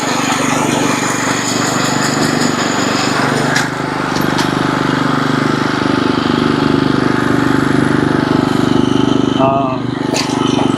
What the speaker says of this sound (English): So right here is my Bermuda grass. Mow this real quick.